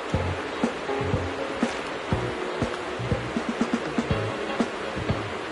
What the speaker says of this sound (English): So I'll just pour this into a glass